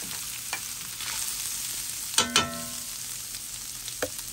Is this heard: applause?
no